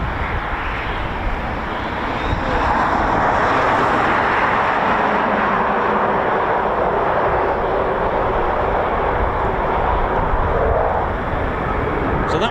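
Eurofighter Typhoon FGR4 jet on a low approach at RAF Coningsby, a loud, sustained, broad engine roar that swells and holds close overhead, then slightly eases; no talk.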